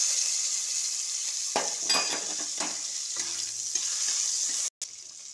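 Chopped tomatoes go into hot oil with five-spice seasoning in a kadai, raising a loud, steady sizzle. A spoon scrapes and stirs against the pan in short bursts, and a brief dropout comes near the end.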